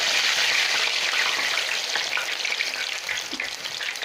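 Algerian makrout, a semolina pastry, frying in hot oil, giving a steady dense sizzle with crackling bubbles, close and continuous without any talk.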